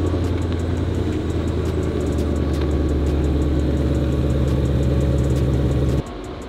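A Dodge Hellcat Redeye with a muffler delete idles close by, giving a loud, steady, deep burbling rumble that cuts off abruptly near the end.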